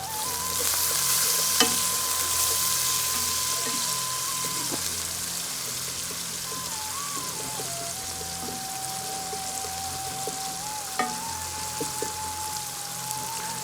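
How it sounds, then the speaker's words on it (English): Onions sizzle steadily in a pan after a teaspoon of salt is added, with a gentle stir; a continuous broadband fry hiss, fairly close, with a faint steady tone running beneath and a few soft clicks. "So salt to taste, I'm adding a teaspoon of salt. Just give it a nice gentle stir."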